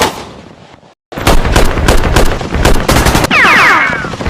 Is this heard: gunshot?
yes